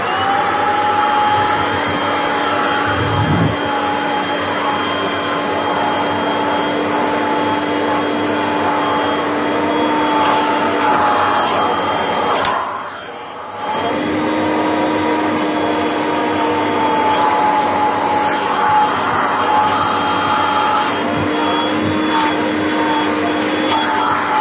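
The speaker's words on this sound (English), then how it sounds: "Now let's just do the other Kirby with the noisy hose to lift what was there." Kirby vacuum cleaner with a noisy hose lifting carpet powder, a loud continuous whining drone close by, dipping briefly midway before resuming steadily.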